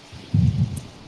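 Wind blowing outdoors straight into a microphone, a brief low buffeting rumble that swells for about half a second and then eases off, with nobody talking.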